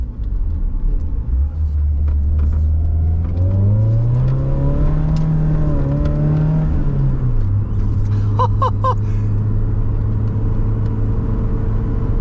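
A BMW E30 318iS fitted with a limited-slip differential drives by with a loud, close engine rumble that rises in pitch as it accelerates, then settles back to a steady drone. A few short chirps come near the end.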